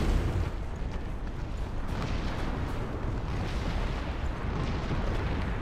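Bomb explosion in Darksiders 2, a heavy deep boom followed by a long rumbling roar of debris that stays loud and fills the whole stretch.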